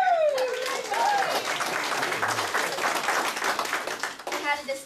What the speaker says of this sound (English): That deserves a round of applause right there.